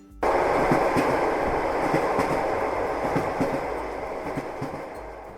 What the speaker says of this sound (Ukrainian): А це звук потяга, який їде.